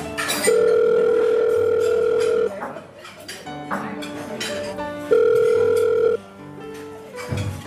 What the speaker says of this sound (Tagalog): Tawagan ko nga si Laida